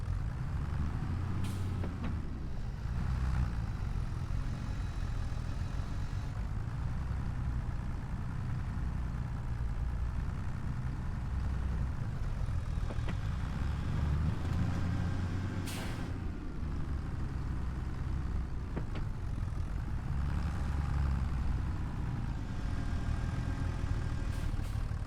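A logging truck with a trailer, video game, engine idling and driving with a steady low rumble throughout, punctuated by a few short hissing air brake releases, with no voices.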